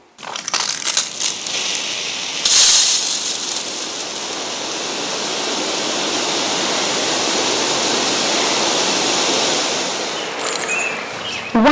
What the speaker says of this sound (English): go to your controller and turn on the sprinklers for 15 minutes